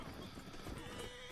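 Horse clip-clop hooves with a brief whinny in the Red Dead Online video game, steady trotting rhythm running throughout at moderate level, with faint voice chatter mixed underneath.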